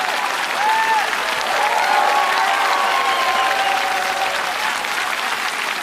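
Studio audience at a televised ballroom dance competition final applauds the dancers with dense, continuous clapping, loud and steady, with a few whoops and cheering voices rising above it.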